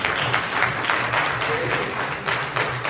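An audience at a party meeting applauds in a steady, dense patter of many hands clapping that fills the room, with voices mixed in underneath.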